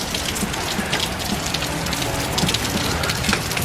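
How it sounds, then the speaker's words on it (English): Heavy rain pouring down on the way to the first day of school, a dense continuous hiss of drops pattering on surfaces with scattered sharper spatters and no pauses. "Like it's really pouring down rain."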